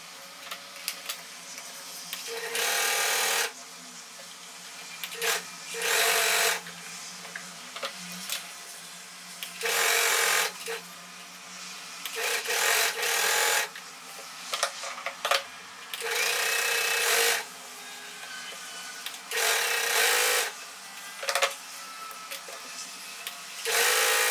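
A sewing machine stitches two blouse pieces at once, running in repeated loud bursts of a few seconds each, separated by short pauses, with no talking.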